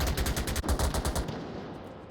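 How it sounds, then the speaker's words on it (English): Rapid bursts of automatic gunfire rattle in the VR shooter Onward during a competitive league match, a fast steady rhythm of shots for over a second, then trailing off into quieter distant fire. "All the gunfire coming out, pre-fire coming out from the"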